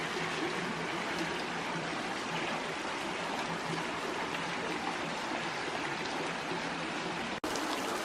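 A small side stream flows below cascading waterfalls in Bankhead National Forest, Alabama, giving a steady, broad rushing wash that holds the same level throughout with no voices over it.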